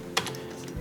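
A few computer keyboard keys are pressed in quick succession, light close clicks with one sharper tap, faint overall.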